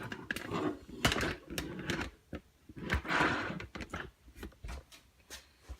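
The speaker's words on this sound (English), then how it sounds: "Sorry about that noise, if that was really noisy moving the tripod." A camera tripod is shifted and handled nearby, giving a scatter of quiet clicks, knocks and scraping rustles at irregular intervals with no voice.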